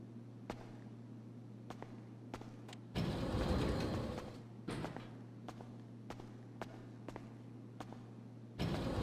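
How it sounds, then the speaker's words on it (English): A personal vehicle in a video game pulls up with a rough engine roar in two loud bursts, separated by clicks and faint steps over a steady low hum. "They're bringing your personal vehicle around right now."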